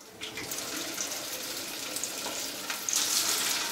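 Pieces of Chicken 65 deep frying in hot oil in a kadai give a steady, close hissing sizzle that swells slightly near the end, with no talk.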